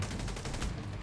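A rapid burst of automatic turret fire rattles steadily at moderate distance in the video game The Division 2, a brief stretch of evenly spaced shots.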